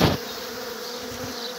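Honey bees buzz in a steady, close drone from half a box of bees, a dense hum after a brief knock at the start.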